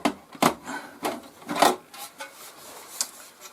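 The lid of an HP Pavilion desktop computer case is pulled off with a series of close, scraping and knocking bumps of plastic and metal, uneven and moderately quiet.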